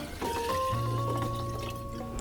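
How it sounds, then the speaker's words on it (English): Silver tequila pours from a bottle into a pitcher already holding ice and lime juice, a steady, close liquid stream with a faint ringing tone lasting about two seconds. "pour in 2 cups of silver tequila"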